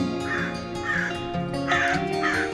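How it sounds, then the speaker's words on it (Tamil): A crow caws four times in an even rhythm, hoarse calls spaced about half a second apart, moderately loud over a constant low background drone. "crow"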